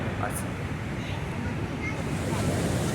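Niagara Falls pours the Niagara River's water over its brink in a steady, heavy roar of rushing water, a dense continuous wash with wind buffeting the microphone throughout.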